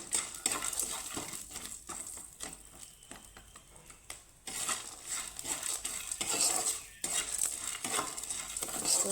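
Peanuts being dry-roasted in a pan without oil, stirred with a metal utensil, giving rattling scrapes and clinks in bursts with brief pauses, close and fairly quiet with a faint sizzle.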